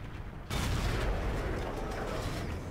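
A World of Tanks T57 autoloading heavy tank cannon fires one sudden, heavy blast that hits after a quiet moment and rolls into a long rumbling decay.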